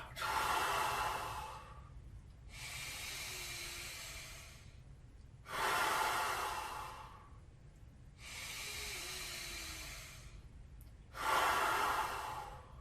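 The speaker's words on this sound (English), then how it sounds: "Keep breathing fully in." Deep, full breaths drawn in and let out during a guided breathwork session in the Wim Hof method, each long airy inhale and exhale repeating in a slow, steady rhythm, close and clear with no talking over it.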